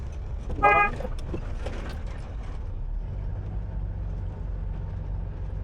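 A vehicle horn gives one short, loud toot near the start while a car drives along a highway, followed by steady engine and road rumble from inside the vehicle.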